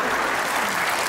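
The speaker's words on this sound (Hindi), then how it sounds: "ये जिसने ताली बजाई है ना" Applause from a live studio comedy-show audience, a dense, steady patter of many hands clapping close by for a brief moment, with no voices standing out.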